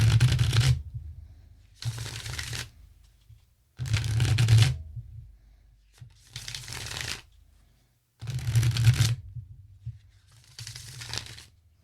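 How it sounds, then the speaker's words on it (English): A deck of tarot cards is shuffled by hand at close range in six separate bursts of riffling, each lasting about a second, with brief pauses between them. "I'm going to shuffle here."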